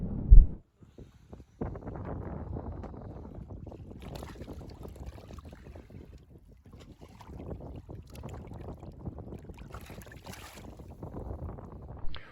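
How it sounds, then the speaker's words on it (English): Wind buffeting a small fishing boat at sea off the UK, low rumbling gusts and microphone wind noise with hull knocks, fairly close and steady, no talking. "The wind is picking up and it's going to get very, very windy soon."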